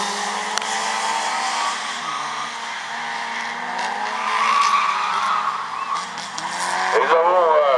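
Class N1 rally cars competing in a timed slalom run: sustained engine roar rising and falling through gear changes, with tyre squeal, heard at a distance under continuous commentary.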